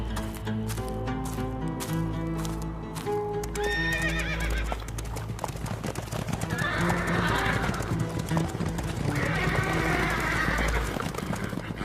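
Horses neigh and whinny repeatedly while hooves clip-clop steadily, close and loud, over a musical background in a historical drama scene where travellers seek water for their horses.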